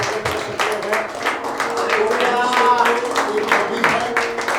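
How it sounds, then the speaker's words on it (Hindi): A church congregation claps during a worship service, steady mixed applause filling the room, with voices talking and calling out over it. "क्या हम ताली बजाते हैं?"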